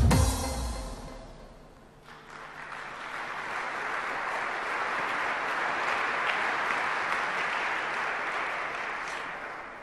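Sustained audience applause at a business awards gala for the entrepreneur of the year, starting with a brief loud burst, dipping, then a steady wash of many hands clapping for several seconds.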